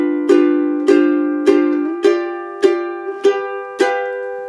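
Tenor ukulele strums a ragtime chord voicing, seven bright strums in a steady rhythm, each ringing into the next, played close and alone.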